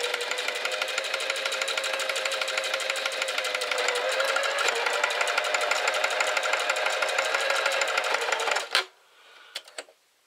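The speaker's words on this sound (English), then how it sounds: "And just sew it down the long side" Sewing machine stitching a shoulder strap: a fast, steady mechanical chatter running nearly nine seconds, close and loud, stopping abruptly before a couple of faint clicks and handling noises.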